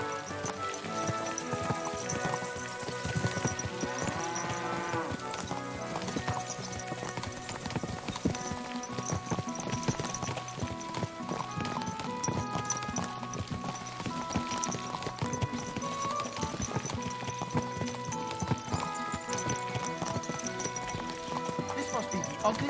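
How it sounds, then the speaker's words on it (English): Horse hooves clip-clop steadily in Kingdom Come: Deliverance II, an even walking rhythm of close, clear knocks running through the whole stretch beneath a music score, with voices talking at points. "This must be the ugliest horse I've seen in my life."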